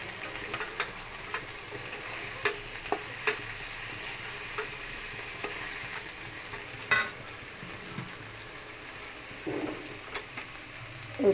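Fried cauliflower added to hot oil in a pan sizzles steadily and softly, with occasional light stirring taps and scrapes.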